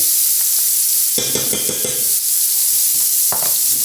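Food sears on a teppanyaki grill over a constant bright hiss, with a burst of louder sizzling and clattering spatter for about a second before settling back, close and loud.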